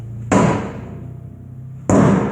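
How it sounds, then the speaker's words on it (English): Two hard hammer whacks on a steel wheel rim to break it loose, each a loud metallic bang with a ringing decay, spaced about a second and a half apart with no talking. "we're going to give it a few whacks"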